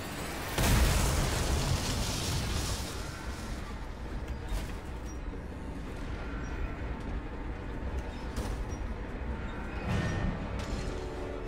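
A loud explosion in the video game Dishonored bursts out near the start, followed by a sustained rumbling roar and crackling debris that continues at a steady level, with a few later pops.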